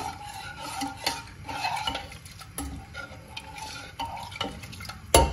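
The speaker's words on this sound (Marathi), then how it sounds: "व्यवस्थित आपण हे मिक्स करून घेऊया." Jowar grits and water stirred in a pressure cooker, with a spoon scraping and clinking irregularly against the metal pot, quiet and close, ending in a sharper knock.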